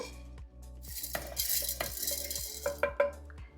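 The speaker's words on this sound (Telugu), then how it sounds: "మినపప్పు ఇలా మంచిగా వేగాలి" Dry urad dal rattles and scrapes in a pan as a metal spoon stirs it while roasting, with scattered clinks against the pan's side and a faint crackle.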